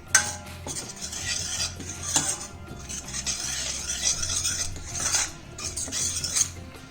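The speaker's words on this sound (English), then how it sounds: "chili powder, and we'll mix this. We'll saute for half a minute." A spoon stirs and scrapes chili powder masala as it sautés in a pan, a continuous close metallic scraping with soft rhythmic swells over a faint sizzle.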